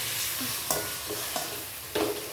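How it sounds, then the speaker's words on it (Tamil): Vegetables sauté and sizzle in a pan under a steady frying hiss, broken by a few sharp scrapes and knocks of the stirring spoon against the pan. "நல்லா கொத்தி நல்லா வதக்கணுங்க"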